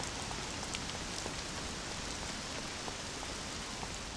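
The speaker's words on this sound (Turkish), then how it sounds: "İyi yağmur ya" Steady rain pattering on a surface, a continuous broadband hiss with scattered drop impacts throughout, no voices.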